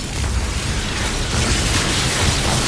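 A loud, sustained blast from the Expulso explosion spell in Hogwarts Legacy, a dense broadband roar that holds steady for a few seconds with crackling debris and no talking.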